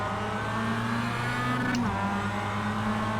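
Mazda MX-5 race cars in the iRacing sim launch from a standing start, engines droning and rising together in a steady, loud rev with a brief shift partway through, no talking.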